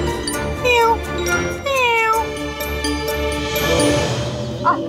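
A cat meows several times, drawn-out wavering cries up close, over a steady background hum with a faint tinkling near the end.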